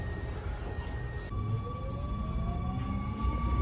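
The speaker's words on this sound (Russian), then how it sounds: "Это у нас метро в Амстердаме." An Amsterdam metro train rolls past at moderate distance, with a steady rumble and rising tonal whine as it moves along the track.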